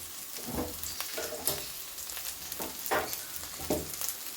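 Garlic, green chillies and curry leaves sizzle in a hot pan, a steady crackling fry with brief louder bursts as ingredients drop in and get stirred.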